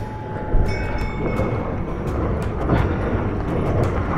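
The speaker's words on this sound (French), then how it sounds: "Il y a aussi des petits trains." A small tourist train runs along rails near the red, acidic Río Tinto in Andalusia, giving a steady mechanical rumble and rolling noise with repeated short clanks and rattles from the wheels and cars.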